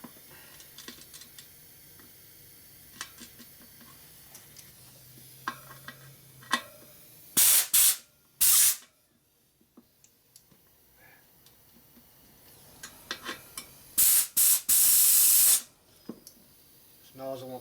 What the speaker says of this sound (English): Nozzle won't put air in there unless it sticks through far enough to get to